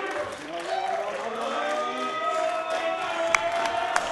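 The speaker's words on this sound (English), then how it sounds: "Not yet as the crowd comes to life." A wrestling crowd comes to life, a brief swell of cheering and shouting across a few seconds, with voices mixed in and a couple of sharp claps near the end.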